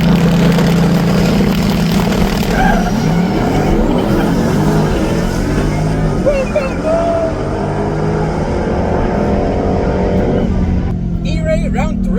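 A twin-turbo Corvette E-Ray drag races a 6th-gen Camaro at a Texas no-prep event, a loud, continuous engine roar close by that stays steady throughout.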